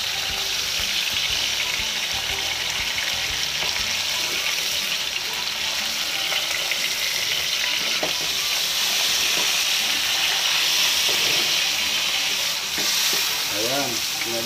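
Pork fries in hot, splattering oil for Filipino pork hamonado, a loud continuous sizzle and crackle up close, with faint stirring clatter and steady intensity throughout.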